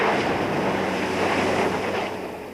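A Toyota Land Cruiser 4x4 drives through water at a 4x4 driving school at Magny-Cours, making a loud, rushing splash that surges close by and then eases slightly toward the end.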